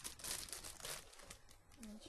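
Crinkly plastic bag rustles and crackles as a boxed Angelphilia Aki doll is unwrapped, with a voice talking over the close, continuous crinkling.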